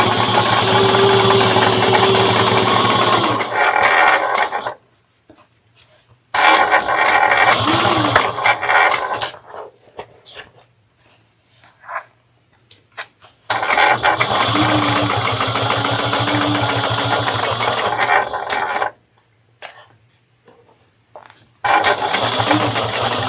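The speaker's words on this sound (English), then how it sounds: "Backstitch well in the beginning and the end." A sewing machine stitching a fabric day-trip bag, with long runs of fast, loud, steady mechanical chatter separated by short pauses and soft handling noises, backstitching at the start and end of each seam.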